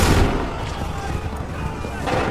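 A musket volley in Assassin's Creed III, a heavy opening blast of massed gunfire followed by scattered rumbling shots, with shouted commands over it.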